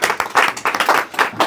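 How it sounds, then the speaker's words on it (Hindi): Audience at a poetry gathering breaking into clapping, a brief burst of uneven hand claps pulsing in quick waves, near and fairly loud. "एक बार जोरदार तालियां।"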